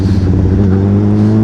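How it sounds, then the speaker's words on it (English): A 2016 Honda CBR1000RR Fireblade sport motorcycle engine drones loudly and steadily up close, its pitch climbing slightly as it revs, with no voices. "the revs pick up quick"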